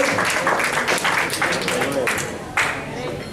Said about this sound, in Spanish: Un aplauso a Eric.